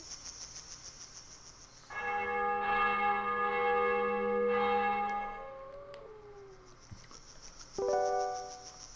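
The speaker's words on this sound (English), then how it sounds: "Church bells." Church bells ring in a dark forest within the video game Juggernaut, several sustained resonant tolls swelling and fading with long ringing tails, followed by a fainter final strike, heard alone with no talk.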